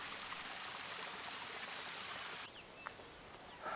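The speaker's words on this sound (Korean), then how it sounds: "산속의 폭포에서 이어진다는 수로." Water rushes steadily along a stone channel fed by a mountain waterfall among terraced fields on a volcanic island, a continuous near flow that drops to a softer trickle partway through.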